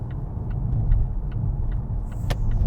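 A Volvo S60 B5 with a 2-liter high performance engine being driven hard with a forced downshift, giving a steady close low engine and road rumble with faint periodic ticking.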